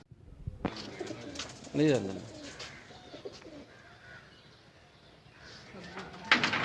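Pigeons coo on a rooftop in Kharian before dawn, with a clear burst of throaty cooing amid quieter ambient noise and a person speaking briefly nearby.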